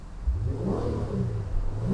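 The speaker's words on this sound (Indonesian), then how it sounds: "kita dengerin dulu mobil Elgrand dengan mesin 3500 V6." A Nissan Elgrand MPV's 3.5-litre V6 engine is revved up, a loud, close, low throaty rumble that rises and holds steady without speech.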